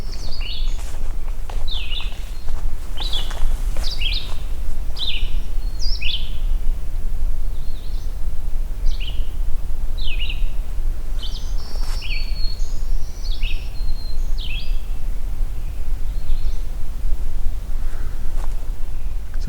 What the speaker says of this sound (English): We got black-throated green warblers and very talkative red-eyed vireo here.